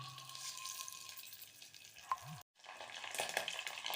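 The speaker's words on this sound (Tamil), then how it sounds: "இதை பாருங்கள், கடுகு வெந்தயம் பொரிஞ்சு வந்துடுத்து." Mustard and fenugreek seeds spluttering in hot sesame oil in a clay pot give a close, hissing crackle that cuts out briefly, then returns, steady and unbroken.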